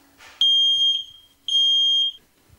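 A smoke detector being tested sounds two loud, shrill electronic beeps, each roughly half a second long with a short gap between, close and alone in an otherwise quiet room.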